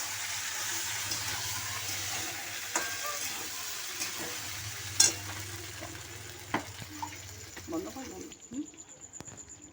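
Soy, chilli and tomato sauce mix poured into a hot pan for home-style chilli chicken, giving a steady near sizzle with light stirring clatter and a few sharp knocks.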